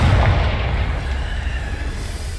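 The Confringo blasting spell in Hogwarts Legacy sets off a loud, deep explosion that booms at the start and rumbles as it slowly fades out, with no talking.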